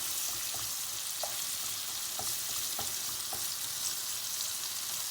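Fillet steak fries in a hot pan with a steady, dense sizzle that runs throughout, broken by a few faint clicks and taps; there is no talking.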